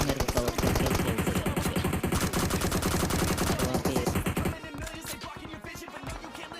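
Automatic gunfire in the mobile shooter PUBG Mobile, a long loud rapid burst of evenly spaced shots that then gives way to quieter scattered shots and impacts.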